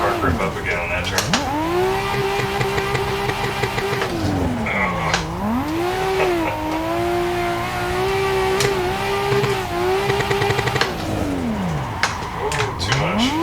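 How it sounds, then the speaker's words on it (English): A WDT R32 Skyline in Assetto Corsa squeals and slides with its brakes locked, the tire screech warbling and bending in pitch over a revving engine, with sharp bursts of sound near the end. "I locked up the brakes and I lost the ability to slow the car down"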